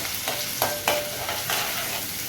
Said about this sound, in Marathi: तेल टाकलं आता कांदा टाकूया